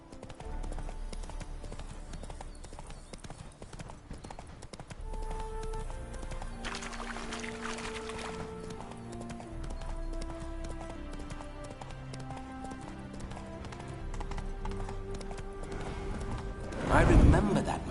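Hooves clip-clop steadily from a horse ridden in The Witcher 3 game, a continuous rhythmic gait under game music and character speech, with a louder burst near the end.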